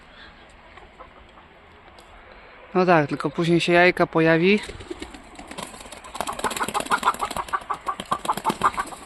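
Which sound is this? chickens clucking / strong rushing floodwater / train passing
chickens clucking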